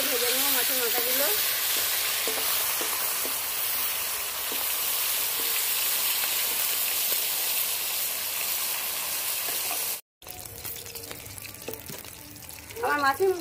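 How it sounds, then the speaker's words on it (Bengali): Hilsa fish heads fry in hot oil with a loud, continuous sizzle and hiss close up, broken by a brief cut and then more crackling with clattering stirring toward the end. "উল্টে ভালো করে লাল লাল করে ভেজে নেবো মাছের মাথাগুলো।"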